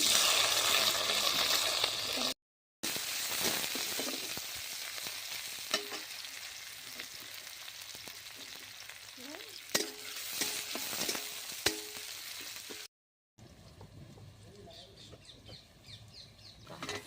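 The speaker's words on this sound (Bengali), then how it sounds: "আমি এখন দেবো পেঁয়াজ আর রসুন।" Onion and garlic fry in hot oil with cumin seeds and dried red chillies for a Bengali greens dish, a close bubbling sizzle broken by spatula stirs, with a chicken clucking faintly in the background.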